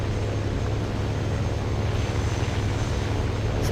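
A bomber's aircraft engines drone in the War Thunder Mobile video game, giving a loud, continuous, low propeller hum that holds steady throughout without any talk.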